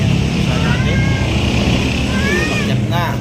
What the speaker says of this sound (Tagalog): ayan ang pusa natin.